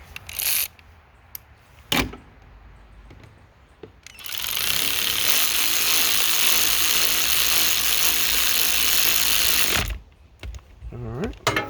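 Ratchet tightening an 8mm bolt on the starter of a 2006 Yamaha Bruin 350 ATV; a few sharp clicks first, then a long fast continuous ratcheting buzz for about six seconds, close and loud, ending with more clicks.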